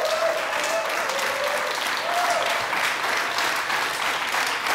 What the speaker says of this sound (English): This is how I get the applause